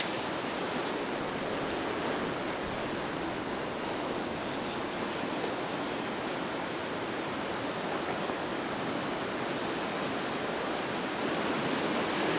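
Steady broadband rush of river water pouring over a weir beside a canal, continuous and fairly loud throughout with no talk.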